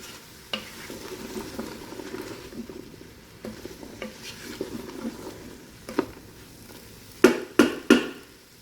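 Potatoes, carrots and celery cook in a Ninja Foodi pot with a low, patchy sizzle and occasional stirring scrapes. Three loud metallic clanks of a spoon or utensil against the pot come near the end.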